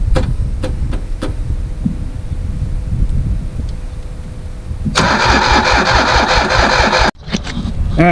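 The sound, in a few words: Ditch Witch 3500 trencher engine starting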